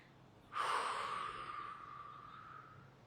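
During a guided meditation, a single long exhale begins abruptly, close and breathy, then fades slowly over a couple of seconds in a quiet room.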